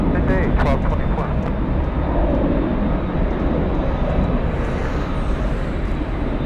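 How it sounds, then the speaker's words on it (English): LATAM Boeing 767 at LAX airport, a loud, steady jet engine roar filling the whole stretch, with faint clicks near the start. "767 flying to Lima, Peru."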